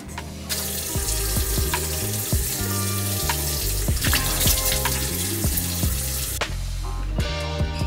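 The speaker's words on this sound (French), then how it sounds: "Ok, donc je vais me laver les mains." Water running steadily from a tap during hand washing at a facial treatment spa in Korea, a continuous hissing splash with background music playing throughout.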